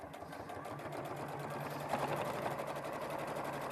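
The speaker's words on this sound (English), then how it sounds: "It's really sewing smoothly." A sewing machine runs steadily while top stitching fabric, its fast even motor hum and needle patter continuing without a break, close and moderately loud, with no talking.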